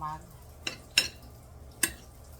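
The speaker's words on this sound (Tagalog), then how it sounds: "Tapos haluin lang natin." A utensil scrapes and clinks against a pan while potatoes with onion powder are stirred, three sharp knocks standing out over a faint, quiet background.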